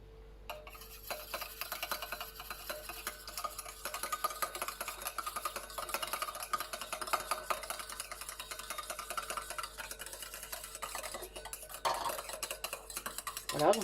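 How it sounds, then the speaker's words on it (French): Hydrosol is beaten into oil to form a cosmetic face-fluid emulsion, a continuous fast, close whisking and scraping against a bowl that stays fairly even for over ten seconds. "on rajoute l'hydrolat dans l'huile et on bat."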